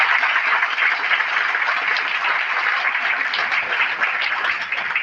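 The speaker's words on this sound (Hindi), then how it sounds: "आदरणीय विष्णुदेव साय जी का जोरदार ताली बजा के अभिनंदन करें।" Dense, sustained applause from an audience at a community honouring event in a hall, steady loud clapping throughout with no gaps.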